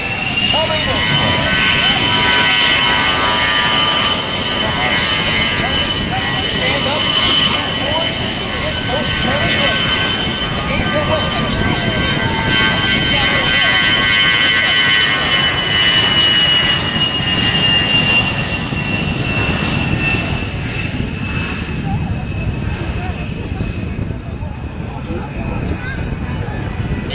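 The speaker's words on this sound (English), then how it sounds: "The A-10 Thunderbolt 2 is the world's premier attack aircraft." A-10 Thunderbolt II jet makes a demonstration pass at an air show, its loud sustained engine whine and roar steady for most of the stretch before easing slightly, with someone talking over it on the public address.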